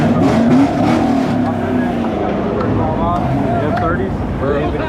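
A supercharged V8 car engine at a car meet rumbles loudly and steadily up close, with people talking over the continuous engine noise.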